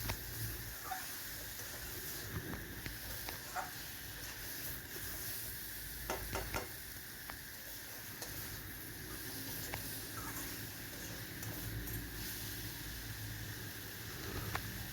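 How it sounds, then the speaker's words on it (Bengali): Sliced bitter gourd and onion frying in a pan, a quiet continuous sizzle with occasional soft stirring scrapes and clicks, close and alone without talk. "সমস্ত করলা আর পেঁয়াজটা কিন্তু খুব সুন্দর করে কিন্তু কষা হয়ে গেল বা ভাজা হয়ে যাচ্ছে"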